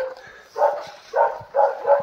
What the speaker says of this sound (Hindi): कुत्ता भौंका।